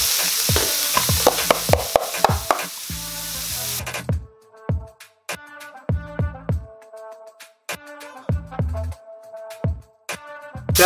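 Carrots stir-frying in a hot pan for Guyanese Chinese mixed fried rice, a sizzle that fades after a few seconds, then scattered scraping and clinking of a utensil stirring against the pan.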